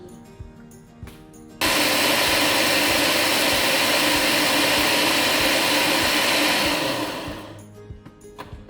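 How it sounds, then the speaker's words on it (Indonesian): A kitchen blender grinds washed rice into small grains for chicken porridge, a loud steady whir that starts abruptly, runs for about five seconds, then winds down and stops, with quieter kitchen noise before and after. "berasnya kita mau blender dulu supaya jadi butiran lebih kecil."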